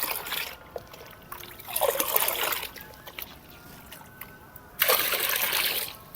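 Water poured from a one-litre mug splashes into a container in two separate bursts, close by, with quiet pauses between.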